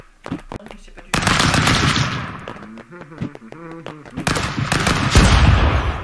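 Rapid machine-gun style bursts and gunshots from the video game Stick Fight, loud and close in dense volleys, with a person talking between and over the shots.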